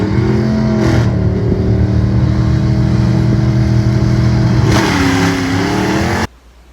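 A Fox Body Mustang launches hard at a drag strip at Shannonville Motorsport Park, clutch dumped at 5,000 RPM, its engine roaring loudly and climbing through revs with a gear change, close and alone before cutting off abruptly.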